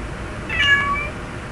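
A single cat meow, short and fairly close, over a quiet background hiss.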